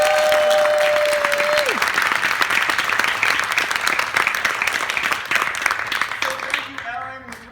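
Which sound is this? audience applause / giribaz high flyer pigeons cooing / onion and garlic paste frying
audience applause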